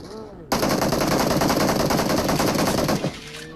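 Gunfire in the PUBG Mobile video game: one loud, close, sustained automatic burst of rapid shots lasts about two and a half seconds, with brief voices before and after it.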